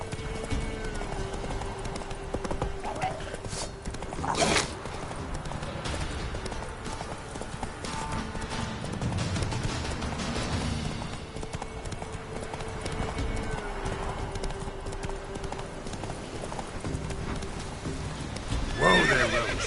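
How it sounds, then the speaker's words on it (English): Horse hooves clip-clop steadily through a gallop in The Witcher 3, with a loud whinny near the middle and game music and ambience underneath throughout. "Whoa there, Roach"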